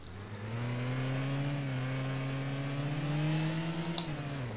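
A Mercedes-Benz CLK engine in the Rigs of Rods driving game hums steadily at moderate revs, rising slightly in pitch, with a brief click near the end, heard alone.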